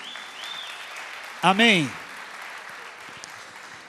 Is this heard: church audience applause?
yes